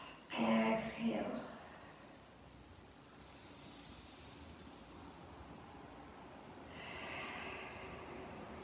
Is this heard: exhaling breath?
yes